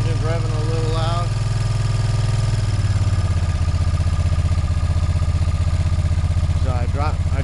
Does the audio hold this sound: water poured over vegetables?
no